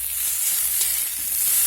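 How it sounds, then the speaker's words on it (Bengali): Potatoes frying in oil in a wok, a steady close sizzle with faint scraping from stirring, continuous and even throughout. "এখন আবারও কড়াই তেল দিয়ে দিয়েছি, এখন আলুগুলো ভেজে নেব।"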